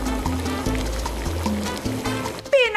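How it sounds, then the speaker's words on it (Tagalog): Plenty of water is poured into a cooking pot for boiling blue marlin fish heads, a steady filling gush over a backdrop of sustained tones, changing pitch near the end. "Pagkatapos, lagyan ng maraming tubig."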